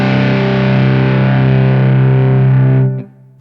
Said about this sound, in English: a more overdrive circuit, and then distortion bordering into fuzz